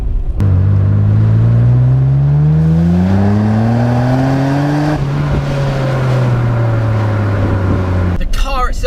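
Nissan Skyline R34 GT-R engine revving hard under acceleration, its loud rising tone climbing through a gear before easing back and dropping, heard close up from inside the car with a faint voice near the end.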